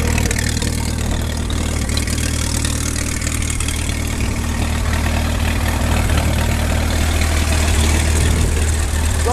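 A 1927 Farmall Regular tractor engine idles steadily up close, a loud, continuous low rumble with a constant mechanical clatter and no talk throughout.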